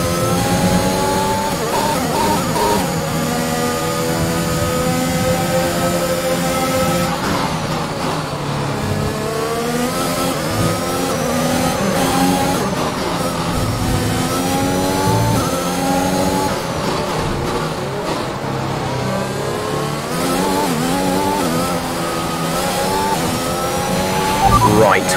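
A Formula 1 power unit in the F1 2021 racing game at the Australian Grand Prix, running steadily loud for the whole stretch with rising and falling revs, under an intermittent team radio voice.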